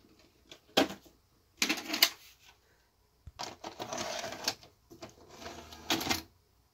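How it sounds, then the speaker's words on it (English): A 1987-era RCA VMT-285 VCR loads a tape, giving bursts of mechanical whirring, clicking and clattering from the loading mechanism, close and fairly quiet, separated by short pauses. "Let's put a tape in."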